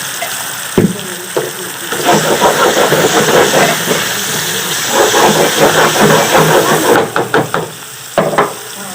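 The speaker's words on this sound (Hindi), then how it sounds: "चिकन हमारा फ्राई हो रहा है।" Boneless chicken frying in a pan for an achari handi, a loud continuous sizzle and hiss with occasional clinks of a utensil stirring, louder toward the end.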